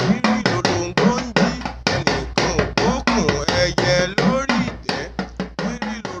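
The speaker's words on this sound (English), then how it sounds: "The drum isn't just playing a rhythm, it's saying good morning." Rapid, sharp strokes on an Ashanti talking drum from West Africa, in a fast, uneven speech-like pattern, close up and continuous, with varying pitch between beats.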